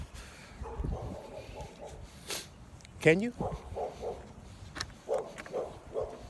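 Dogs yip and whimper in short, scattered bursts with one rising whine, mixed under a person talking.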